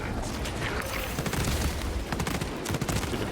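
Heavy bolt rifle fire in a sci-fi shooter game crackles as a fast, dense volley of sharp reports over a thick, noisy background of battle sounds.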